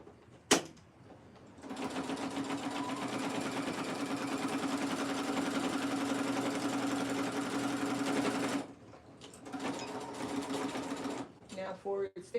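A sewing machine stitches cow print shorts in one steady, close run of about seven seconds, with brief handling clicks before and after it.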